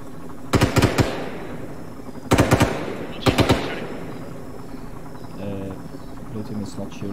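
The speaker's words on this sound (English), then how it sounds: "She's shooting something." Bursts of automatic gunfire crack out in three rapid, loud clusters of several shots each, followed by fainter background noise and some voice activity.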